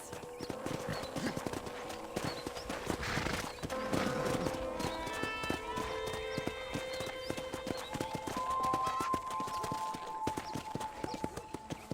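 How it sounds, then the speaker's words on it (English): Horse hooves clip-clop steadily as a rider travels around a ranch in the Red Dead Redemption video game. The hoofbeats are close and continuous, with a brief whinny and tonal game music underneath. "let's see if you can still ride a horse."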